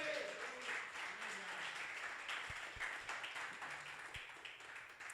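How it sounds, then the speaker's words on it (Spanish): A church congregation claps together in a faint, sustained patter of applause that carries on for several seconds, with a voice briefly audible at the start. "No sé si alguien puede decir amén y darle un aplauso al Señor."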